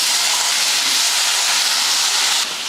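Potatoes go into hot oil with fennel seeds and curry leaves in a kadai, and a loud, dense, continuous hissing sizzle follows. It eases slightly near the end, with no voices over it.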